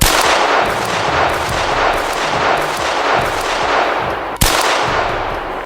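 Rapid gunfire from an emptied pistol clip, a dense run of loud sharp shots in steady rhythm, ending with one heavier crack just before a short pause.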